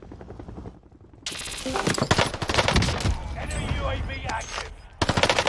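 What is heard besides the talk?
MP40 submachine gun firing in Call of Duty video game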